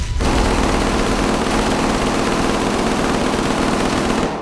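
Rapid, continuous gunfire rattles loudly for several seconds, shots blurring into one dense burst.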